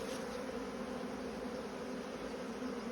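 Honey bees from a strong backyard hive buzzing steadily in a dense, close, continuous hum, with no voices present.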